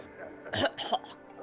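A video game character in Skyward Sword HD gives two rough coughs in quick succession, close and moderately loud, over a quiet low background hum.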